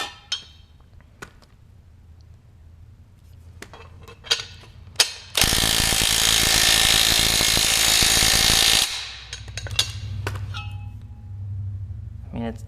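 A hand ratchet tightens an exhaust pipe clamp during a Flowmaster FlowFX exhaust install on a Chevy Colorado ZR2. Crisp, close ratchet clicks come in short bursts, broken midway by a loud, sustained mechanical grinding roar.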